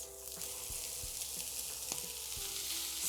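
Grated mooli and its leaves stir-fry with chili, garlic and ginger paste over high flame, sizzling loudly and continuously while a spatula scrapes and knocks against the pan in irregular strokes.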